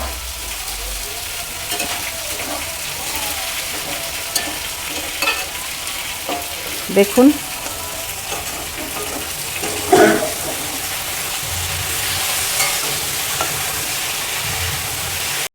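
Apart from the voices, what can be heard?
green beans frying and being stirred in a pan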